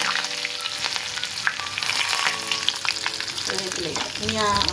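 A handful of curry leaves sizzles and crackles in hot oil for a brinjal pickle, a loud, dense, steady frying hiss with stirring, close and continuous throughout.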